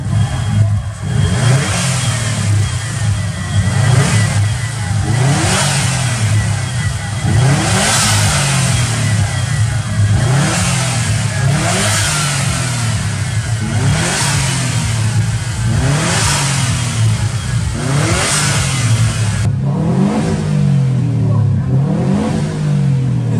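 A modified car engine revved repeatedly at a car meet, with loud rhythmic bursts of acceleration dropping back between blips and crackling exhaust pops, close and continuous.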